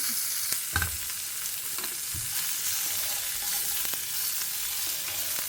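A medium-size onion sizzles in oil in a pan, a steady close hiss of frying with a few soft clinks and stirring bumps, and no talking.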